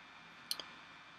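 A computer mouse gives a single faint, crisp double click while editing text styles in InDesign, quiet over low steady background noise.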